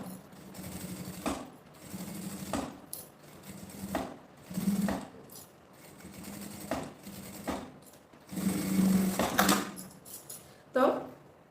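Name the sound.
sewing machine stitching bias binding edge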